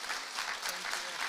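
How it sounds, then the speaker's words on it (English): A conference audience breaks into a short, steady round of applause, a brief wash of clapping with no break. "Can we give her a round of applause, too,"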